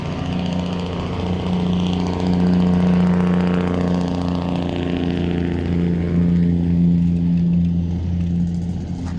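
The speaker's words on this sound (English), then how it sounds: "Just wait up a second for the noisy truck." A noisy truck passing close by on a street, its engine drone loud and continuous for about nine seconds with a steady low hum that swells in the middle and eases slightly toward the end.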